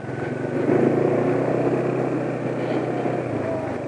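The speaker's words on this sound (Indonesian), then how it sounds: "Suara mesin ya memang sudah mulai asak-asak" A motorcycle engine idles with a steady, slightly rough drone, running on worn-out oil advertised as 20W50 and starting to sound coarse; the sound stays close and continuous throughout.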